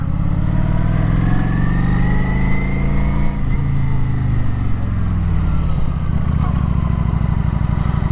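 A motorcycle engine revs continuously as the rider rolls on the throttle coming out of a corner during cornering practice, a loud, steady engine drone with rising and falling pitch, close to the microphone.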